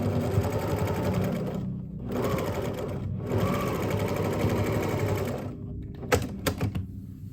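Sewing machine stitching fabric pieces together for a kitchen boa craft, a loud rapid mechanical whirr running in long stretches with brief stops, then a few short stitch bursts at the end.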